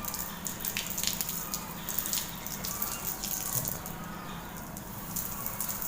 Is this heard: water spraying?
yes